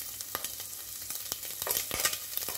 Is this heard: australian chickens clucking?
no